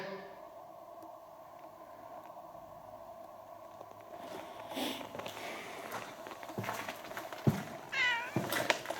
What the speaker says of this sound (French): Vous l'avez entendu miauler?